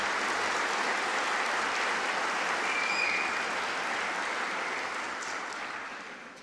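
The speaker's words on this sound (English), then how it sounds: "Big round of applause for 196 people." A crowd applauds steadily at a graduation ceremony with dense, sustained clapping that holds strong before gradually tapering off near the end.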